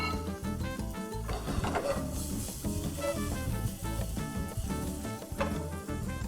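Onions sizzle gently in a pan, a steady crackling fry with occasional clinks and stirring noises, no talking.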